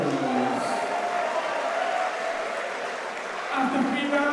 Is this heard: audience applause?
yes